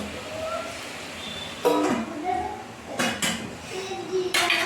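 Metal lid set onto a pot of crab gravy, several sharp clanks and clinks of metal against the pot amid kitchen noise, with some faint background voices.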